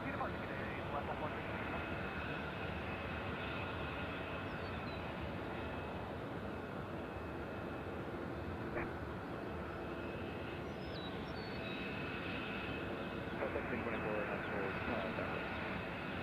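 An airliner departs Nashville International Airport with a steady, distant jet engine rumble that continues throughout, under a talking voice and faint radio chatter.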